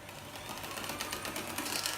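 Small electric hand whisk beating egg whites toward stiff peaks for chocolate mousse, a continuous buzzing motor whir with a slight rhythmic flutter, close and steady, no talking.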